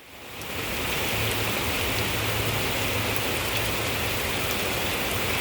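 Steady rain falling outdoors, a dense, even hiss that swells in over the first second and then holds constant and fairly loud, with no voices.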